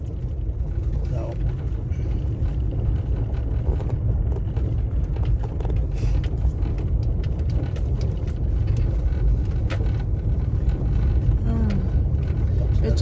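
An SUV rumbles by on a mountain road in the Great Smoky Mountains near Big Creek, a steady low engine and tire drone heard from inside a nearby vehicle with no clear peak.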